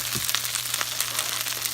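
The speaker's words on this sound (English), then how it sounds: "I'm going to be stir frying this for a while." Pork stir fry sizzling steadily in a pan, a continuous broadband crackle with small pops throughout, close and moderately loud, with a low steady hum underneath.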